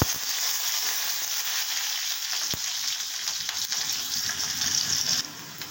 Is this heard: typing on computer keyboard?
no